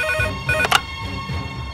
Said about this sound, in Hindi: फोन उठावा